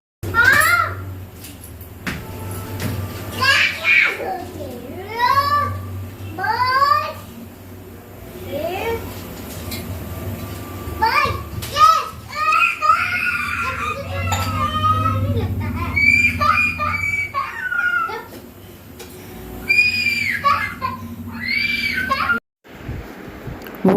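A small child screams and cries in repeated rising wails and sobs, loud and close, with other voices and household noise between the cries.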